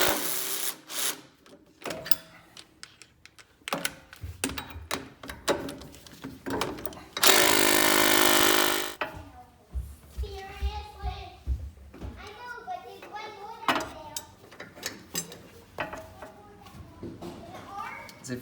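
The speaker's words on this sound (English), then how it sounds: "So we are going to put the Pitman Arm puller back on and cross your fingers." A Pitman arm puller is tightened onto the steering box of a Jeep JK Rubicon with a power tool, giving a loud continuous whir of a second or two among clanks and ratcheting. People talk in the background.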